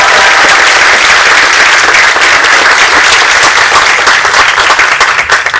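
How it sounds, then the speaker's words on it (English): Loud, dense applause from an audience at a university graduation ceremony for Erasmus Mundus joint programme graduates, sustained clapping filling the hall for several seconds and easing slightly at the end. "Big applause."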